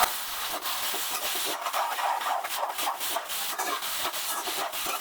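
Chopped onions frying in hot oil in a pan for egg bhurji, a dense, steady hiss of sizzling with faint stirring scrapes, close and continuous with no talking.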